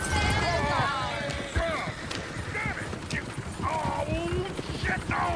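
Horse hooves clip-clop in Red Dead Redemption 2, a busy run of hoof beats under game chatter and whinnies, with character voices talking over them throughout.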